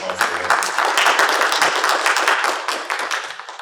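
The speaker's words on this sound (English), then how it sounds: "A round of applause for Alexis." Audience applause for Alexis at a library anniversary celebration of Black community history and culture, a steady wash of many hands clapping close by for several seconds, with some talk mixed in at the start.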